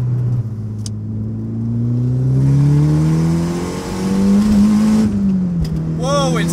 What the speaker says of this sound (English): Right to the top of the rev range, it still pulls extremely hard.